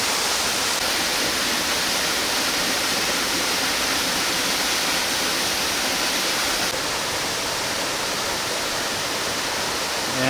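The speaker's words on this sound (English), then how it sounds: "this is a smaller waterfall, but we're still going to head up to a higher level to get to the bigger one." A small waterfall on a jungle trek in Muang Ngoi, Laos, pours as a steady, dense roar of rushing water, close and unbroken for the whole stretch with no voices.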